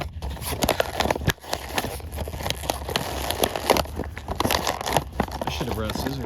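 Stiff old plastic toy packaging crinkles and crackles as it is pried and torn open by hand, a close, busy rustle running throughout with brief voice sounds in places.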